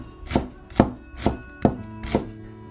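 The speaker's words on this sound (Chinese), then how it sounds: "把生姜先给它切成片，" A kitchen knife slices peeled fresh ginger on a cutting board, five firm, evenly spaced thuds, close and clear, with no talk.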